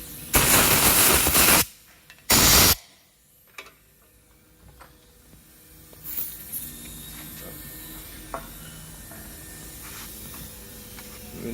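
Compressed air blows off a BMW N20 engine insert during a rebuild in two loud hissing bursts, a long one then a short one, followed by quiet workshop ticks and small clinks.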